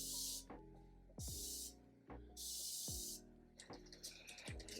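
A makeup fixing spray is misted onto the face in three separate hissing bursts, each about half a second to a second long, close and crisp, followed by softer rustling handling sounds.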